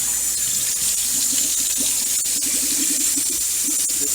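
Cold water runs steadily from a tap over soaked chicken in a sink, a constant close splashing hiss with faint handling sounds underneath.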